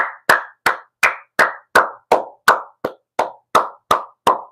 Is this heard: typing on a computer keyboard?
no